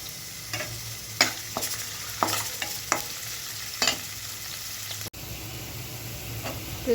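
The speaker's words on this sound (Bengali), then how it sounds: "তেলটা হালকা গরম হলে কাঁচামরিচ পেঁয়াজ এবং কাঁচামরিচ দিচ্ছি" Chopped onions and green chillies fry in warm oil for a lentil and bitter gourd dish, giving a steady close sizzle broken by several scraping stirs of a spatula and one brief dropout near the end.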